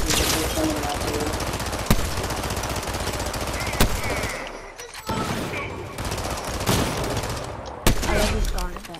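Rapid automatic gunfire from a weapon in the video game Fortnite, dense loud bursts filling most of the stretch with a brief lull midway and sharp single cracks standing out, close and continuous.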